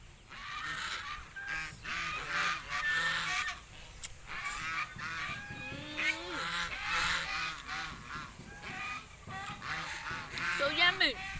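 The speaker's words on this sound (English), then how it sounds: "the sound of bird like chip" Geese or similar fowl honk and call repeatedly at an outdoor setting in Cambodia, with overlapping nasal honks rising and falling throughout, fairly close and loud, with faint background voices.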